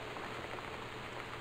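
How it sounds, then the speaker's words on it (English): Steady rain falls in the video game Gone Home, a dense, even hiss of drops on surfaces at moderate volume with no voices. "I thought the rain maybe would be like a melancholy thing"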